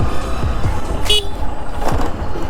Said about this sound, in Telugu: ఈ కుక్కలనే హార్న్ కొట్టగానే పక్కా తప్పుకుంటున్నాయి